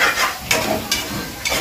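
Curry masala for a country-chicken dish is stirred and fried in a pan with a steady sizzle, broken by about four scraping strokes of a spoon against the metal. The sound is close and clear, with no talking.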